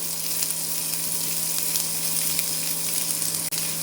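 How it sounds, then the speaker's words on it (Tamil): Sliced onion fries in hot oil with fennel seeds, giving a continuous bright sizzle with a steady low hum beneath, no voices present. "பெருஞ்சீரகம் பொரிஞ்சதும் வெங்காயம் ஆட் பண்ணிக்கலாம்"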